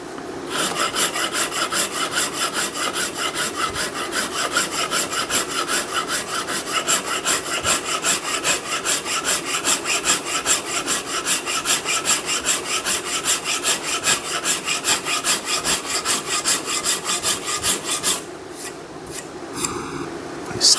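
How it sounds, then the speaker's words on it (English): A hand rasp files down a wooden axe handle being hung on a Tasmanian pattern axe, making fast, even, scraping strokes in a steady rhythm for about eighteen seconds, close and fairly loud, before slowing to a few last strokes. "I'm going to go ahead and switch to a rasp"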